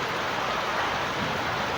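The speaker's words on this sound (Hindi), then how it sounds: "देखो कितनी तेज़ बारिश है और पानी पूरा भर गया हमारे इधर।" Heavy monsoon rain pours steadily over a flooded street in Haridwar, a continuous broadband hiss of downpour and running water, loud and close, with no voices.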